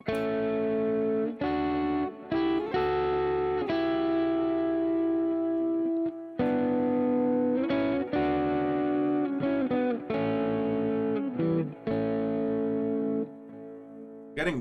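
A distorted electric guitar plays a slow melody harmonized in thirds, phrases separated by short breaks, heavy with effects and sustain.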